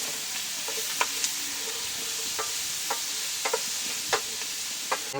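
Crushed garlic and green chillies sauté in hot oil in a pan, a dense continuous sizzle broken by scattered sharp clicks and scrapes of a spoon stirring, close up with no voices.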